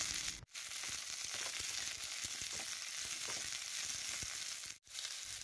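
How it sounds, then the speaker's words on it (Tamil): Cut okra sautéing in hot oil in a pan, a constant bright sizzle with light stirring clicks, briefly dropping out twice. "இப்போது இது எல்லாத்தையும் நம்ம அந்த ஆயிலை நல்லா வதக்கிக்கலாம்"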